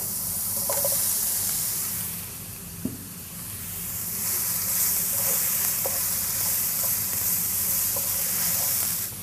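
Steamed jackfruit and chopped onion fry in a pan, giving a constant soft sizzle with a few light stirring scrapes and taps scattered through it.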